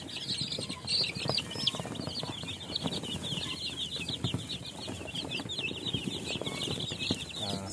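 A dense chorus of one-to-two-week-old chicks cheeping continuously in a brooder, many high peeps overlapping, with soft rustling and shuffling underneath.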